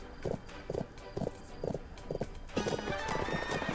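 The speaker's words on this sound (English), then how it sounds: "gallop towards an obstacle to jump over it" Horse hooves galloping in the video game Bibi & Tina at the Horse Farm, a steady rhythmic clip-clop of about seven or eight beats, close and clear, ending in a brief louder burst of game sound.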